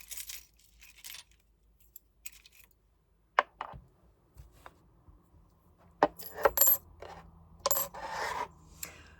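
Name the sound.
old coin dropping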